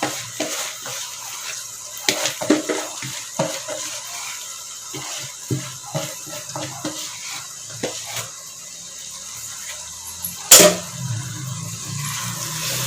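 Soaked, drained basmati rice goes into a pot of masala for egg biryani, with repeated scraping and stirring, a soft sizzle and one sharp metallic clink partway through, all close and without talk.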